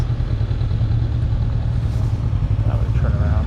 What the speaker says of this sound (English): Motorcycles.